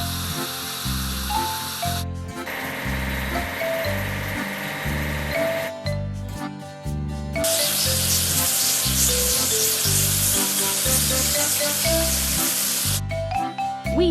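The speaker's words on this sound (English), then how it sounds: "Let's wash the tractor with carriage." Water spray hissing steadily while a tractor and trailer are washed in a children's farming game, set over bouncy background music with chime-like notes.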